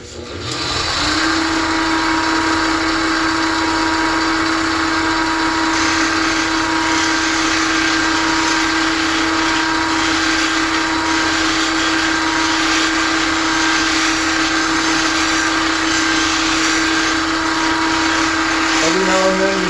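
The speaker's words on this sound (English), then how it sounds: "We'll see how long it takes to grind that down." A bench grinder runs steadily and loudly with a high whine as a skew paring chisel is ground down, holding an even tone throughout with no pauses.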